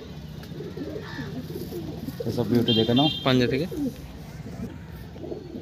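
Breeding pigeons in an Andhra pigeon loft give a couple of deep, throaty coos nearby, partly under a voice speaking throughout.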